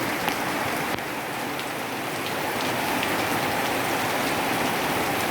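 Heavy rain falls across a flooded school ground, a thick continuous patter of drops striking surfaces nearby, steady throughout with no speech.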